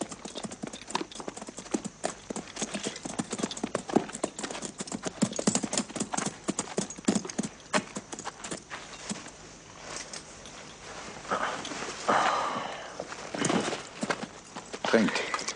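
Hooves clip-clop steadily and close by, a horse moving through rough terrain in an East German western film, with dense regular knocks, the odd snort, and voices speaking over part of it.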